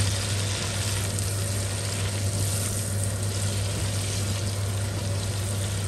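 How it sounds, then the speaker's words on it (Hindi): Boneless chicken and ginger fry in a pan with a constant soft sizzle and crackle over a low steady hum, no talk. "चिकन को हमने थोड़ा सा फ्राई कर लिया"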